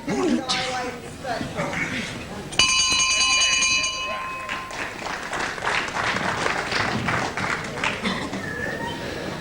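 At a 1970s wrestling bout, the round bell rings out sharply and lingers for about two seconds, clearly above a murmuring crowd and steady commentary.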